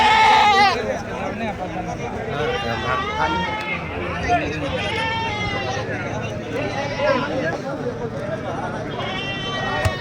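Goats bleat repeatedly amid a busy goat market crowd, with people talking close by and a steady babble of voices in the background.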